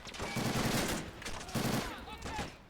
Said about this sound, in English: This thing's actually getting some shots in.